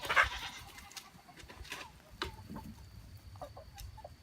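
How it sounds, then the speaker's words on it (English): Farm chickens, faint and somewhat distant, clucking in short scattered bursts over quiet outdoor background. "You see all my chickens down there."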